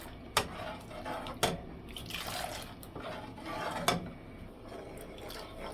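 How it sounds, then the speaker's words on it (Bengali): Hot milk stirred in a pot to cool it for mishti doi, giving soft liquid sloshes with a few sharp spoon clinks against the pot, close and fairly quiet with no talking. "দুধটা এখন আমি নেড়ে ঠান্ডা করে নিব এভাবে।"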